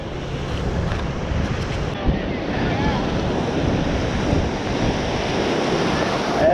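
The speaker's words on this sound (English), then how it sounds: "And the waves aren't too bad." Ocean waves break continuously on a sloping beach, with loud, dense surf washing in under heavy wind buffeting the microphone and no clear pauses.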